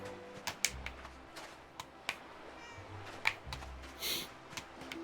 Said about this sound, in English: More cats.